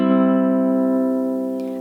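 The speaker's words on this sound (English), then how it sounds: "we go back to all open strings in measure 7 and play this arpeggio through the" A ukulele arpeggio on open strings rings out as a single sustained chord, decaying steadily over under two seconds with no talk.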